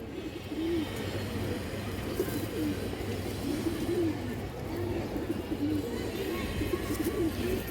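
Several pigeons give soft, repeated coos close by against a steady background murmur, with the calls spaced out through the whole stretch.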